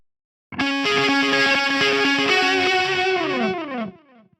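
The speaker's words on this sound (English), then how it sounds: "Now let's hear our tone with delay." Electric guitar dialed to a distorted rock tone through a Line 6 Firehawk FX or AMPLIFi modeler with dotted-eighth delay, playing a sustained, chord-heavy phrase that rings out and trails into faint repeats.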